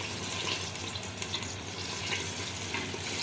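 Pasta for koshari drops into very hot oil and sizzles in a soft, continuous hiss. The sound is fairly faint and steady throughout, with no voices.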